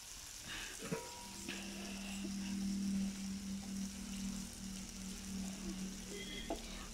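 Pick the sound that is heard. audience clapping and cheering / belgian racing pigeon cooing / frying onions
frying onions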